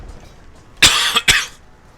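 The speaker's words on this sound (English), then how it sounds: "Sorry I'm still coughing, it just, I know, tickle in my throat" Two sharp coughs from a tickle in the throat, close and fairly loud, spaced about half a second apart, with quiet background before and after.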